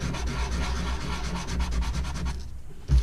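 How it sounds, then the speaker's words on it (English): Sandpaper rubbed by hand over small surfaces on a Bruder D11 RC model conversion, a steady back-and-forth scratchy rasp, close and fairly loud, ending in a brief pause and a bump. "I'm sanding this down so that all these surfaces touch"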